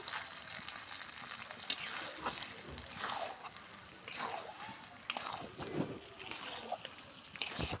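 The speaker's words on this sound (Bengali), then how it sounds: "এবার টমেটো দিয়ে দিব আমরা, টমেটো কুচি।" Chopped tomato tipped into a pan of potatoes: soft sizzling and frying with scattered scrapes and clatters of a spoon against the pan, fairly quiet and close, with no talk.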